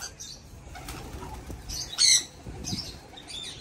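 Pet pigeons taking off with a loud flurry of flapping wings near the microphone, a burst of wingbeats rising midway among softer fluttering and faint chirps.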